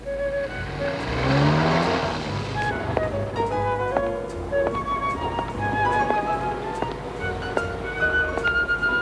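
A car travels on the road close behind, its engine and tyre noise swelling loudly over the first few seconds, then carrying on steadily beneath background music.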